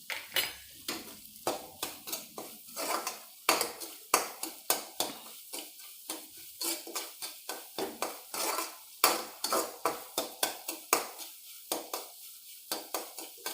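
A spoon scraping and clinking against a pan as two spoonfuls of semolina (suji) roast, rhythmic bursts of metallic stirring and tapping repeated close up with quiet gaps between strokes, no voices.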